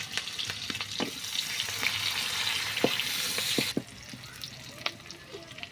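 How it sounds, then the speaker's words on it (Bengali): Chopped onion and prawns crackle and sizzle in hot oil in a home kitchen, with a spoon stirring and knocking against the pan, and the sizzle drops quieter partway through. "প্রথমেই আমরা গরম তেলে পেঁয়াজ কুচিটা দিয়ে দিচ্ছি"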